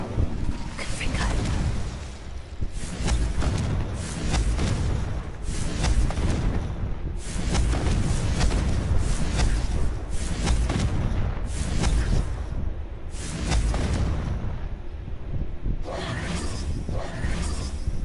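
Repeated Confringo blasting-spell explosions in Hogwarts Legacy, a string of loud booming bursts filling the scene with little pause between them.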